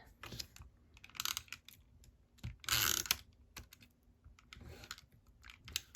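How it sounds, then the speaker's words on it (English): A tape runner is rolled across cardstock in a papercraft card project, giving close, crackly bursts of clicking and ratcheting that come in several uneven strokes. "So I will put tape runner on one side."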